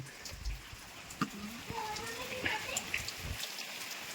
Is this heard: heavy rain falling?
yes